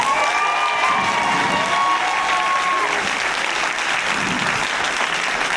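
An audience applauds loudly and steadily for the full length, with a few cheers and whistles rising over the clapping and no break in the sound.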